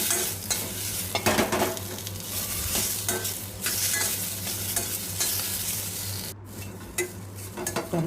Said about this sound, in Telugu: ఆయిల్ వేసుకొని టొమాటో పీసెస్, చింతపండు కూడా యాడ్ చేసుకోవాలి. ఫ్రై చేసుకోవాలి మంచిగా.